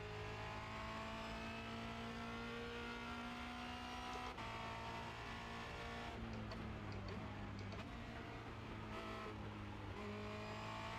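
Formula Renault 2.0 race car at Circuit de Barcelona-Catalunya, its engine droning steadily with strong harmonic whine, dipping briefly mid-lap then building again under throttle, loud and continuous from onboard.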